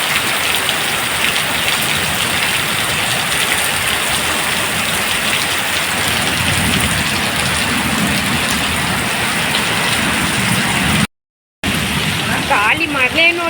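Heavy rain and wind storm during the onset of the monsoon, a dense steady roar of rain pounding surfaces with gusty wind, loud and continuous apart from a brief dropout, with a voice faintly mixed in.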